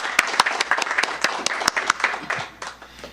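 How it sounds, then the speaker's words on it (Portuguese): A church congregation applauding during a worship service, many hands close together with sharp irregular claps, tapering off toward the end. "Vamos aplaudir o Senhor Jesus?"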